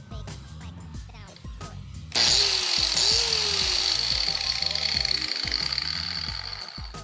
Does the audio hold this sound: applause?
no